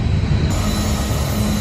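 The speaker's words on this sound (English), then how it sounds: "There's a massive train coming." A massive train rumbles past nearby, a loud, continuous roar of rolling wheels and rail noise with no break.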